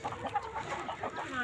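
Kadaknath chickens clucking on a chicken farm, a steady chorus of overlapping bird calls at close range with no talk.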